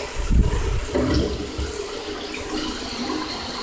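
A shower sprays water across dehydrator trays, making a steady hissing rush with splashing as the trays move under the stream, close and continuous, with no talking.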